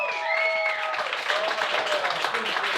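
A comedy club crowd claps to vote for a roast comedian, a dense wash of applause mixed with cheers and whoops, with faint voices and a tonal sound in the background.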